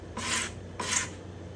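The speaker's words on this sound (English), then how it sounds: "Any glue squeeze out is getting scraped off at this point." Two firm rasping strokes of a scraper clearing glue squeeze-out from the bindings and black-and-white purflings on a spruce guitar top, each stroke about half a second, close and alone.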